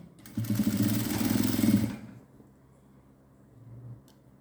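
A sewing machine hums steadily through a sustained stitching run around the waistband of a 50-inch Patiala pant, then cuts off and leaves a low fading rumble.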